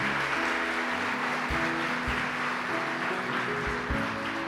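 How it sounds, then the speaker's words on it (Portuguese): A church congregation claps in a steady, continuous wash of applause, with sustained music tones underneath, loud and even throughout. "Você pode aplaudir ao Senhor?"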